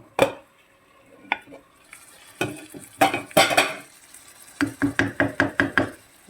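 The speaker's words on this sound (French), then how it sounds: "je vais couvrir avec un couvercle" A lid goes onto a pan in a home kitchen where sweet potato and pepper filling is cooking. Clinks and scrapes of metal come first, then a quick run of close, sharp knocks and rattles, with no voices.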